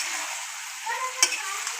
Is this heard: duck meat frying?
yes